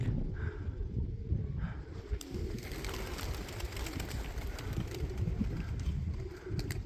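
Pigeons cooing in a loft, low soft murmuring calls repeating under a steady background rumble, with faint scuffing and flutter nearby and no talking.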